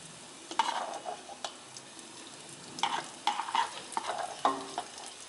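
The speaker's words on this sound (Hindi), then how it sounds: "फिर मैं डाल रही हूँ इसमें हरी मिर्च" Green chillies drop into hot oil with cumin seeds in a pan on low heat and crackle and sizzle, with scattered bursts of frying and stirring scrapes over a quiet background.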